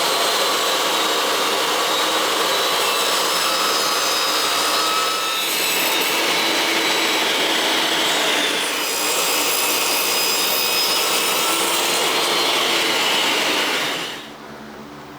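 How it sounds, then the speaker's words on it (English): A power saw cutting through a wooden board for the side aprons of a ramp, a loud sustained whine with a brief dip mid-cut, ending as the blade spins down. "we're going to be cutting two 40-inch boards out of this one"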